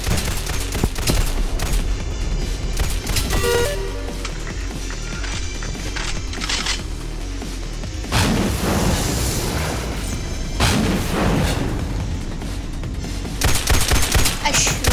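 Video game gunfire in repeated loud bursts of rapid shots with booms between them, some quieter stretches, and a voice talking briefly over the action.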